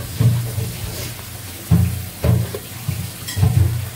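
Ginger-garlic paste sizzling in hot oil in a pan with fish, potato and pointed gourd, in bursts of frying hiss that swell as the paste hits and is stirred, close and fairly loud.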